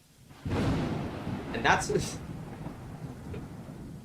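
Thunderstorm from the video game The Letter, a rumbling thunder roll with rain, a short sharp crack in the middle, then fading under a brief spoken voice.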